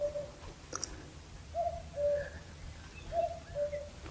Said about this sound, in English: You can hear the cuckoo.